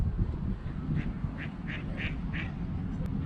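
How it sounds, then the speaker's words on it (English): Several ducks quack in a short run of evenly spaced calls beside a lake, moderately close, over steady outdoor background noise, with no talking. "Those ducks know that song."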